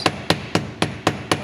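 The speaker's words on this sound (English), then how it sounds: "we want to flip it over and hammer it a little all the way around" A hammer strikes copper wire in six evenly spaced, sharp metallic taps about a quarter second apart, close and crisp, texturing the wire with no voices.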